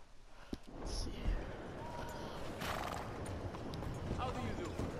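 Horse hooves clip-clop and a horse whinnies in Red Dead Redemption 2, with steady game ambience and a brief neigh near the start, all at moderate level beneath no spoken words.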